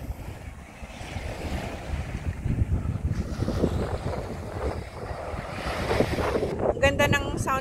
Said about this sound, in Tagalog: Ganda ng sound ng waves. Sound of waves.